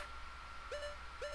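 Two short owl hoots from The Legend of Zelda: Ocarina of Time sound a half second apart over quiet game background tones.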